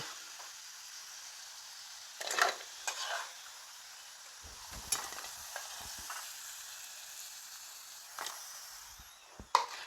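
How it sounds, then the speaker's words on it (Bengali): Potatoes fry in hot oil with a steady soft sizzle, joined by occasional stirring scrapes and brief louder crackles. "ওই তেলে এবার আলুগুলো ভেজে নেব"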